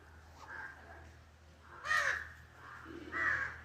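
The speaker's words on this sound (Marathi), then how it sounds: "आपण बघत आहात हा डोम कावडा ज्याला आपण म्हणतो, हा मोठ्या संख्येने इथं बघायला मिळतो" Jungle crows cawing where large numbers gather: three harsh, drawn-out caws spaced about a second apart, the later two louder and closer, over a faint low background hum.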